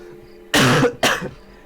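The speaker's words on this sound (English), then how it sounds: "And I gotta cough 1 more time." Two loud, close coughs a moment apart, the first longer and harsher, the second shorter, with no talking around them.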